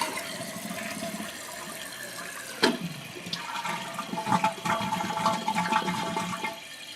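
A toilet fitted with a Fluidmaster fill valve flushes, a sudden loud rush of water that gurgles and drains, then settles into a steady hiss of the tank refilling.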